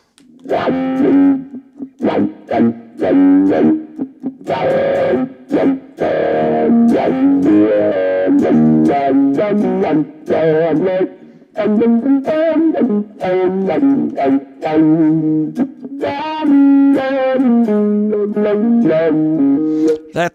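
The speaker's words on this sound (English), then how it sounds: "This is the really shallow sweep, all in the kind of lower register." Electric guitar playing a melodic line in the lower register through a gentle, shallow sweeping effect, steady and fairly loud with no talking.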